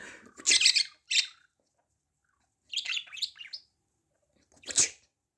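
A cockatiel and budgerigars playing together, giving bursts of close, sharp chirps and squawks with quiet gaps between them.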